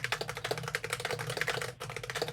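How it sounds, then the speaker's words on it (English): Typing on a computer keyboard: rapid, irregular key clicks in a steady stream with one brief pause, close and fairly quiet, with no talking. "You're typing what I said."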